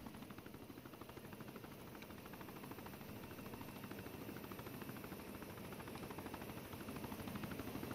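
A video game helicopter thrums steadily through a landing, its rotor chop a continuous low pulsing wash that grows slightly louder toward the end, with no voices.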